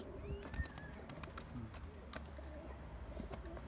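Pigeons at an evening feeding coo softly in the background, with a few faint clicks and rustles around them.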